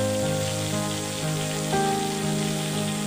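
Whole cumin seeds frying in hot oil give a steady, close crackling sizzle with a faint tonal hum underneath, unbroken for a few seconds.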